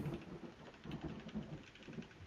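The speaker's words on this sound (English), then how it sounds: "it does kind of start to get cloudy and dark outside, and it does kind of start to begin to rain again" Steady rain with soft low rumbles of distant thunder during a cloudy, darkening outdoor spell, a constant wash of noise at low level with no voices.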